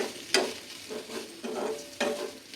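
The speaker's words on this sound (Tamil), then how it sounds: "இப்போ தேங்காய் போட்டு இப்படி நல்லா கடாயில் பரப்பி வச்சு" Grated coconut is stirred and spread in a kadai for Tamil amavasai cooking. About four scraping strokes land close and fairly loud, each a short sweep, over a light sizzle with no voices.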